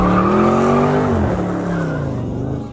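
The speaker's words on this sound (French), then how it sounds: "Il fait des dérapages en voiture, ça c'est vraiment excellent déjà." A car drifts with its tires skidding in a loud, continuous squeal that slides gradually downward in pitch, along with engine roar. The sound is close and fades slightly toward the end.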